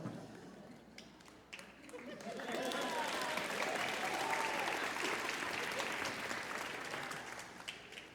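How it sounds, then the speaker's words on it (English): An audience at a concert claps in rhythm along to the Radetzky March: dense, steady applause that swells after a couple of seconds and stays full and bright, with the orchestra faint underneath. "the audience frequently clapping along"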